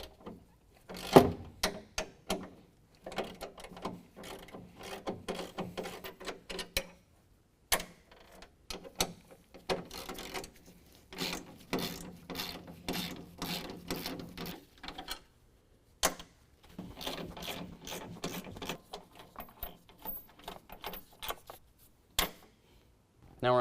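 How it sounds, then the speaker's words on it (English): Ratchet working 13mm bolts under the front bumper of a 2015 Ford F-150, bursts of quick clicking strokes separated by short pauses, close up, with someone talking at times. "there's going to be 3 13mm bolts that we need to remove"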